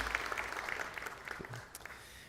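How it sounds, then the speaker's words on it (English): Applause from the audience at a city council meeting, honoring a former LA Conservation Corps employee, a moderately quiet round of scattered clapping that gradually thins and tapers off. "That does deserve a round of applause."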